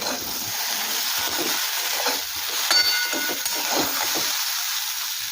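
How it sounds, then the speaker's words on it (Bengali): Okra and potatoes seasoned with salt and turmeric fry in a pan, giving a steady close sizzle and hiss broken by a few soft stirring scrapes, with no talking. "আলুর সাথে সাথে ভিন্ডিও ভালোভাবে ভাজা হয়ে গিয়েছে"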